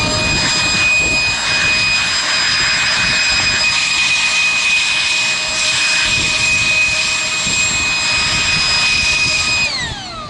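Kobalt 24-volt cordless jobsite blower running steadily at a loud, constant whine with a high-pitched tonal motor note for about ten seconds, then spinning down near the end.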